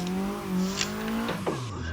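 A car drifting on the Ebisu track, its engine droning in a steady harmonic tone that climbs in pitch and then drops, with tire noise mixed in, close and moderately loud, with no talking.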